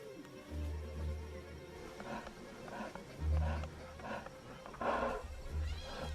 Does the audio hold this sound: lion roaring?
yes